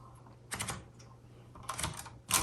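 A 1960s Singer Scholastic T4 travel typewriter is adjusted for line spacing, giving three separate mechanical clicks and clunks close up over a quiet background.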